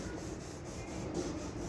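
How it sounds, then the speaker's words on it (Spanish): Sandpaper rubs back and forth over the body of a 2007 Honda Civic, a close, continuous, even scraping with no voices. "Ya le raspé un poco con la lija"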